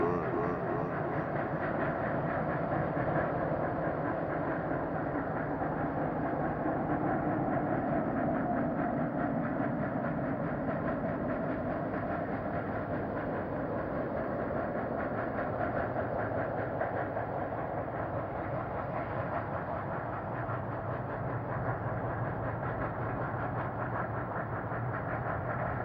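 LNER A4 steam locomotive 60025 Falcon speeds north along the main line on a Sunday morning, a continuous loud rumble with rhythmic wheel clatter sustained throughout, no voices.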